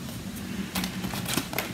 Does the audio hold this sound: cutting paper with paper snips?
yes